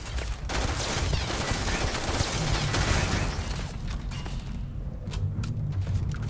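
Turret gunfire in the sci-fi game Starfield, a dense, sustained fusillade of rapid shots that stays loud and continuous throughout, with a thinner stretch of sharp cracks near the end.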